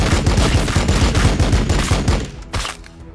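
Loud bursts of battlefield gunfire in the turn-based strategy game Warhammer 40,000: Battlesector, a rapid rhythmic volley of close shots that thins out near the end, leaving a few isolated reports.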